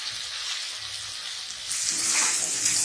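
Chicken sautéing in a pan for a Bengali white chicken curry, a steady soft sizzle that swells louder and brighter partway through as the pieces are stirred, with no talk.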